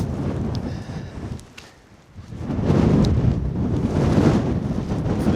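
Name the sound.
wind blowing on a hilltop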